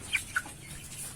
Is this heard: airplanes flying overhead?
no